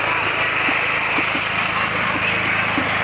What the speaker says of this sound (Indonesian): Genset sudah dihidupkan.